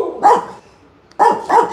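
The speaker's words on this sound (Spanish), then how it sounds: "Vamos a ignorar un poco al perro del vecino" A neighbour's dog barks three times, a single bark and then a quick pair, loud and sharp with short pauses between them.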